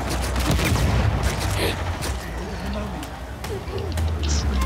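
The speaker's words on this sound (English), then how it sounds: "You get a lot of time to shoot him." Gunfire in an Uncharted 4 survival mission, rapid bursts of shots and booms mixed with game effects, with players talking over the action.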